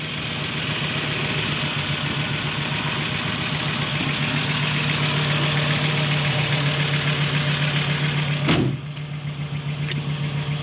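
A 25-year-old Audi 90 quattro 20v sport sits idling with a steady, even five-cylinder hum close by, interrupted by one brief sharp knock near the end before the idle settles again.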